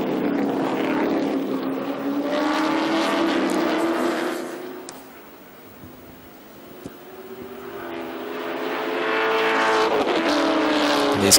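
Chevrolet Lumina V8 race cars roaring past on the Bahrain circuit during a Middle East Championship race, loud engine note swelling, fading briefly, then building again as another car approaches.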